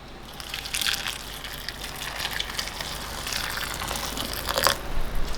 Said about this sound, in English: pour some hot water, either from the tap or if you have a kettle